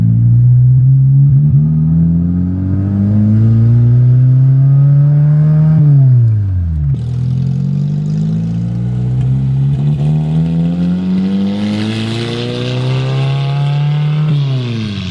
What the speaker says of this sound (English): Well, the car's extremely loud.